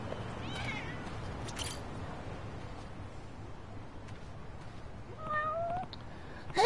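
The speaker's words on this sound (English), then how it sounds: "Cats!" Cats meowing in the video game Lost Judgment, a few short mewing calls near the start and a clearer run of meows toward the end over a steady ambient game background, with a voice briefly speaking.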